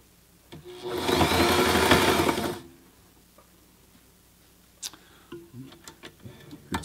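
A Sailrite Ultrafeed LSZ1 sewing machine backstitches fabric in one loud, rapid, close burst of about two seconds, followed by scattered clicks and light handling noises.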